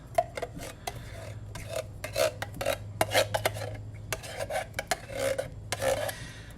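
A spoon scrapes cheese sauce out of a container in a series of close, rasping scrapes and knocks in an irregular rhythm, with quiet gaps between strokes and no voices.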